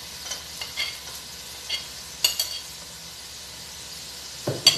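Chopped onions sizzling in a pan for prawn noodles, with a few scraping stirs and clinks of a utensil against the pan, close and fairly quiet.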